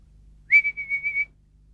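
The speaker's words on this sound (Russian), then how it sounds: "Свисток свистеть может" A toy whistle blows one shrill, wavering tone of about a second, rising sharply and then pulsing several times before stopping, alone against near-silence.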